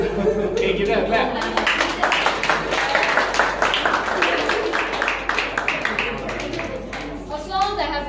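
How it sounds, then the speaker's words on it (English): An audience at a secondary-school STEM award presentation claps steadily for a student, a dense run of close hand claps with some chuckling and murmuring underneath. "Okay, give him a clap."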